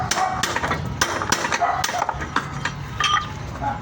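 Metal drift struck with a hammer to knock out the old steering ball race on a Honda Click scooter, a series of sharp ringing metallic blows at an irregular pace, close and clear.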